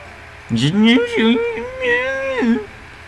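A catgirl character in the Nekopara video game gives a drawn-out, wavering meow when petted on the head. It is a voiced imitation of a cat, heard clearly and alone.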